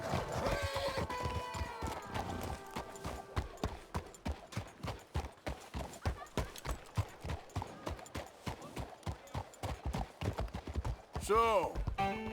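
Horse in Red Dead Redemption 2 clip-clopping in a steady, even stream of hoofbeats, then letting out a loud whinny near the end, with faint character dialogue in the background.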